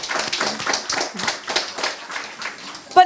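A small group of people clapping at a town hall meeting, individual claps distinct and uneven rather than blended, with a brief sharper knock or sound near the end.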